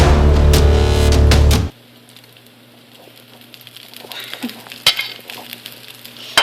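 Tuna patties frying in oil in a pan: a loud burst of close sizzling for the first second and a half, then a quieter crackle with occasional sharp spatula clicks.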